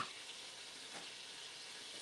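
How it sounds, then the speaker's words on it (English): Onions cook in avocado oil in a pan, giving a faint, even sizzle that holds steady for about two seconds with no talking over it. "You just have to stir it slowly and make sure it finishes cooking up."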